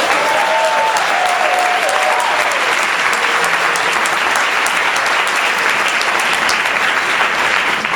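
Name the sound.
audience applause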